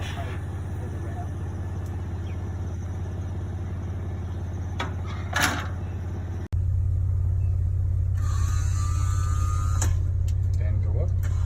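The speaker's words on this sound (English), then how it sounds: "simply press that button, and there goes the ramp. It even lowers the car down to adjust the height for the ramp." An accessible van's powered ramp deploys while the vehicle kneels lower, a steady low motor hum and rumble running throughout, with a brief mechanical clunk midway before the drone continues slightly louder.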